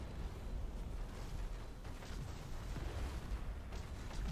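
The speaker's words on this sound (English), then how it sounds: "so I'll just drop a stasis bomb down" A stasis bomb dropped during an Ork space battle in the video game Battlefleet Gothic Armada 2, heard as a dense, continuous wash of low rumbling booms and crackling bursts at steady loudness throughout, with no voices.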